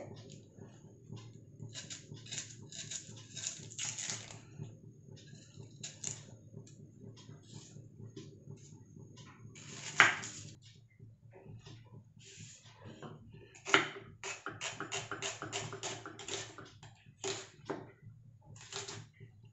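Kitchen knife chopping an onion finely on a board, a run of quick close taps in irregular bursts, with a soft steady hum of a heating wok behind.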